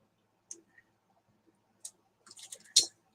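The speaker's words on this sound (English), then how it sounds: "we're going to cut these wires, tuck them in" Jewelry wire is snipped while making earrings with Czech glass beads and sari ribbon: a few small, crisp clicks spaced apart in a quiet room, ending in a short cluster of close snips.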